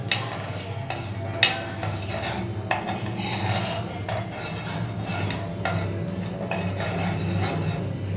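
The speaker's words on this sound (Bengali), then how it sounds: "ক্যারামেল হয়ে যাচ্ছে, হালকা একটু নাড়া দিয়ে দিলাম" Caramelizing sugar is stirred in a pan over a low gas flame, a spoon scraping and clinking against the metal in a soft, steady rhythm, with one sharper knock near the start.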